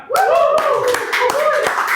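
Several sharp hand claps land at irregular intervals beneath a talking voice in an indoor talk-show setting, close and fairly loud, mixed with speech.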